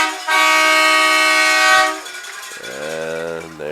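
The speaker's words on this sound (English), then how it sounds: "And there's the air horn." An air horn blasts loud and sustained at a high school varsity football game after a touchdown, then drops to a lower, wavering tone before fading.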